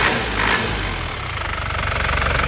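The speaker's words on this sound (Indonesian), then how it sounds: "kelihatan dari suara dan getaran mesin" A diesel engine on a 2006 Grand Touring Turbo runs at a steady idle, loud and close, with a rough rhythmic knocking clatter and no talking.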